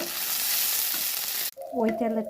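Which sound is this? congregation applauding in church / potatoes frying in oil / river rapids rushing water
potatoes frying in oil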